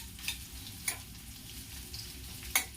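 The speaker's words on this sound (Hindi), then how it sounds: "तेल गर्म हो चुका है, इसमें मैं प्याज डालूंगी। गैस को मैं हाई फ्लेम पर कर रही हूँ" Onion fries in hot oil over a high flame for Afghani egg curry, a faint steady hiss broken by a few sharp clinks of a spoon against the pan.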